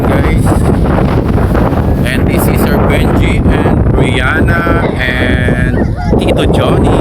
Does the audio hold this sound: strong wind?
yes